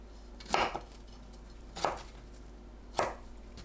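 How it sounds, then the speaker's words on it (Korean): A knife chops washed broccoli into bite-size pieces on a board, with three separate sharp chops spaced about a second apart, close and clear against a quiet low hum, with no talking. "씻은 브로콜리를 한 입 크기로 썰어주세요"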